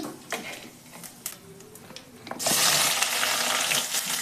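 Onions tipped into hot oil with crackling cumin seeds and a pinch of asafoetida, bursting into a loud, steady sizzle partway through after quieter pan sounds.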